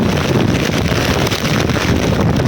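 Loud, constant wind roar buffeting the microphone, with a dense rushing hiss of heavy rain on an umbrella, steady throughout with no voices.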